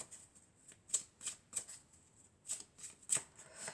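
Oracle cards being shuffled by hand, a run of soft papery riffles and slaps coming in irregular bursts, close and fairly quiet, with no talking.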